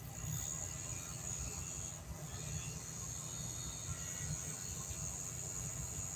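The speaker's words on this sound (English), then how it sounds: "Okay, we got the fan going on the ESC." A small electric fan runs off an ESC plugged into a receiver channel, giving a steady, unbroken whir with a thin high whine over a low hum.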